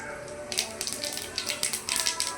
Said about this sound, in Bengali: এবার ফোড়নে দিয়ে দিচ্ছি অল্প করে সাদা জিরে